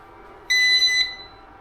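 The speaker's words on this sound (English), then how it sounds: "It makes super loud, annoying buzzing noises, beeping noises while it's connecting" Ruko F11 Pro 2 drone controller: a single loud, shrill electronic beep lasting about half a second, sharp and close, over a quiet background.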